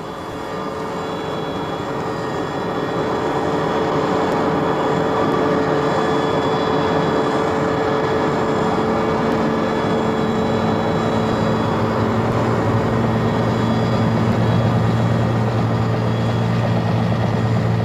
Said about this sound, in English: a fleet of helicopters is employed, bringing in fresh troops, provisions and water